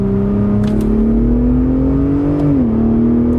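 A 2021–23 third-generation Ford Raptor pickup pulling in second gear, its engine droning loudly and steadily as the pitch climbs smoothly, then dropping sharply at a shift near the end.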